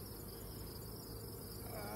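Honey bees massed outside their beehives during a honey harvest, a dense continuous buzzing drone that stays faint and steady throughout.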